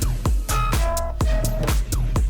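Punchy modern dance track released on a record label: a hard kick thumping on every beat under bright stacked synth chords and a sustained lead, loud and full with no voices.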